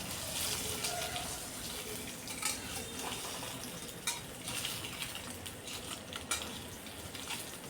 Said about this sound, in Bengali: গ্যাসের হিটটা যেহেতু কম রেখেছি, তাই একটু সময় নিয়ে ডিমগুলোকে ভাজছি